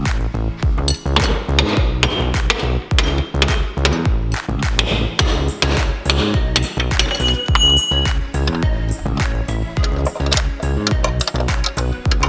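A hammer drives a pin out of a fork on a wrecked Tesla with rapid, steady metallic strikes, close and loud, continuing for more than twelve seconds.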